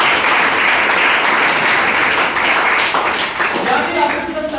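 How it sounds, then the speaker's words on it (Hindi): Audience at a Hindi-language business plan presentation for a company breaks into loud, sustained clapping that fills the whole stretch, close and dense with only a slight dip near the end. "तो मैं चाहूंगा कंपनी के लिए एक बार जोरदार ताली।"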